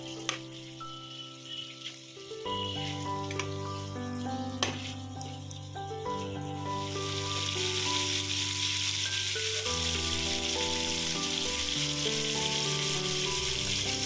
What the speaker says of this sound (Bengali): এবার এগুলোকে উল্টে দিচ্ছি, আর একটা পিঠও এরকম লাইট ব্রাউন করে ভেজে নেব।